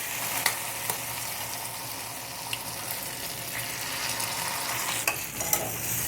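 Two eggs cracked into hot oil in a pan hiss and sizzle steadily as egg bhurji fries, with occasional sharp clicks of stirring against the pan, at a close, moderate level.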